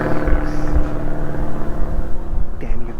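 A biplane drones overhead in a yard. The engine is loud and steady and its pitch shifts slightly as it passes.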